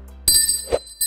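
A bell rung to open a round of a Brazilian real estate game show: two bright metallic dings with long ringing overtones, one near the start and another at the end, separated by a short muffled thump.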